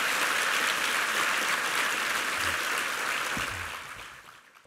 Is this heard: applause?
yes